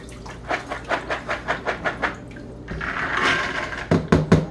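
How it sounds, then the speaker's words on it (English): Water runs and splashes over dry beans being rinsed for spicy charro beans, a steady wash of spray swelling midway, preceded by a series of regular soft knocks and followed by a few sharp clatters at the end. "You want to rinse them off until all that dirt just stops coming."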